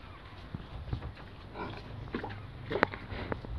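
A sow grunts and sniffs close by, with short soft snorts and one louder grunt among quiet sniffing over a few seconds.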